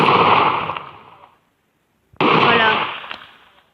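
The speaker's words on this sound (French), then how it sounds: "on est obligé de jeter une bombe pour leur enlever de la vie" Two booming bomb blasts in a video game, each a loud burst that fades over about a second, separated by a short silence, with no talk over them.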